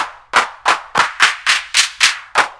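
A clap from a drum synth, brightened and spread with a tight reverb-like tail, struck eight times in a steady, fairly quick rhythm; each hit is a loud, crisp noise burst that decays fast, with nothing else behind it.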